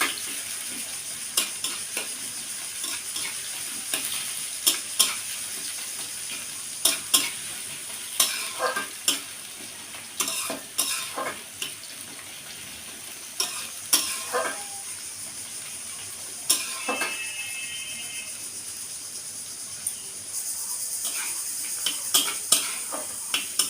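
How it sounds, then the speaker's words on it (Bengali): Chopped onion fries with a steady hiss in a pan while being stirred, with repeated sharp scraping strokes over an even sizzle and no talking. "পেঁয়াজ কুচিটা আমি বাদামি বাদামি করে আগে একটু ভেজে নেব।"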